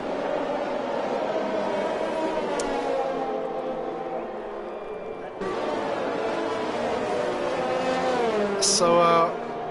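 Formula 1 race cars in a video game at the Japanese Grand Prix drone with high, layered engine tones that shift in pitch as they rev, with a commentator talking over them and a sudden louder burst near the end.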